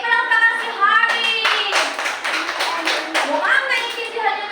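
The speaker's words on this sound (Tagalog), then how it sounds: "Okay, palakpakan si Harry!" Children clapping for a classmate in a classroom, a steady patter of many small hands over several seconds, mixed with kids' voices throughout.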